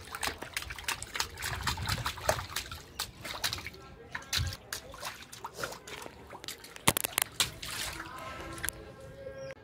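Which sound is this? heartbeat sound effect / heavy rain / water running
water running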